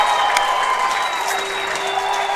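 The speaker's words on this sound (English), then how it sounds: "Crowd goes wild." Crowd applauding and cheering after a goal at a Kick in de Kök 2018 final between GRID and Salaspils WT, a steady dense roar of clapping that stays loud throughout.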